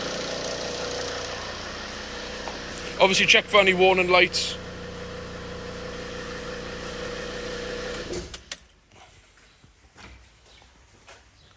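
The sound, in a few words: diesel car engine idling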